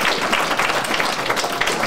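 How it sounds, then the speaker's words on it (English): Applause fills a graduation ceremony hall, a steady crowd of clapping hands sustained evenly throughout without pause. "And please give a round of applause to them."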